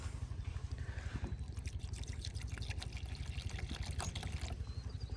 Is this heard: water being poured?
yes